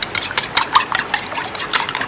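Eggs beaten with a little salt and ground pepper, a utensil rapidly whisking against the bowl in quick, repeated scraping strokes, close and fairly loud, with no talking.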